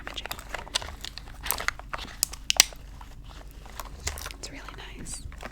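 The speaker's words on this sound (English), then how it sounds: "I think a very underrated trigger is makeup shuffling and rummaging" Makeup items are shuffled and rummaged through up close in soft, intermittent bursts of crinkling, clicking and tapping, with quiet pauses between the handling sounds.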